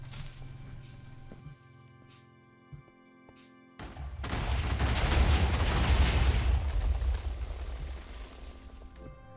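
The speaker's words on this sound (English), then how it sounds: "My oh my, that was quite the explosion." An explosion blows a hole in the ground in modded Minecraft, a sudden loud blast breaking in after quieter game ambience and rolling on as a long, roaring crumble that slowly fades.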